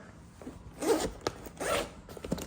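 A zipper is pulled open on a Kemimoto lower door storage bag fitted to the passenger door of a 2020 Honda Talon, giving two close, brisk rasping zips with a short pause between them.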